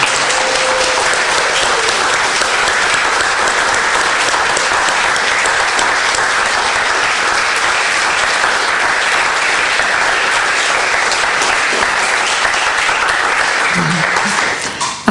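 A large audience applauds a short-story prize organiser at a literary award event, a loud, dense, sustained clapping that runs steadily for about fifteen seconds before tapering off at the end.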